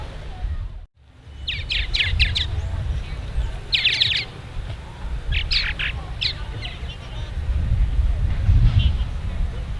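Quick clusters of high, thin chirps from purple martin nestlings in a nesting gourd repeat over a low background rumble and distant murmur.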